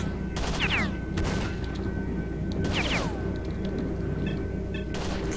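Gunfire in S.T.A.L.K.E.R.: Shadow of Chernobyl, a few sharp shots in separate bursts, each with a ringing tail, over a steady background hum.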